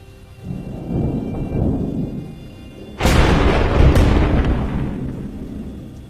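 A low rumble of rain and distant thunder, then a sudden loud thunderclap cracks and booms as lightning strikes a nearby tree, rolling away over a steady downpour.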